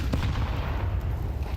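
A grenade explodes during a professional Counter-Strike match, heard as a loud, dense low boom that fills the whole moment with sustained rumbling and no talk over it.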